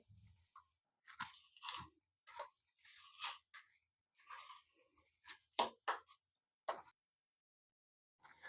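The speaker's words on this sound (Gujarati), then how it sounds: "આ બટેટા છે એને આપણે આ ક્રશ કરી લઈશું આ રીતે" Boiled potatoes are crushed by hand for Maggi vada, giving soft, intermittent squishing and crunching pulses in short bursts, close and fairly quiet against a silent background.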